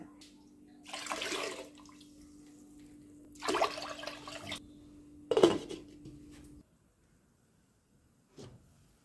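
Water is poured into a pot of rice for Vishu kanji in a few separate splashing pours, fairly quiet over a low, steady hum.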